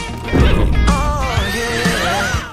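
A horse in The Sims 4 Horse Ranch expansion lets out a loud, close whinny that wavers and trails off over a couple of seconds, with a faint hoof clop beneath.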